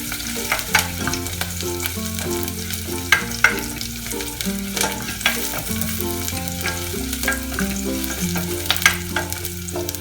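Onion sautés in a pan for oatmeal congee, with a close, steady sizzle broken by frequent clacks and scrapes as it is stirred. Faint music plays underneath.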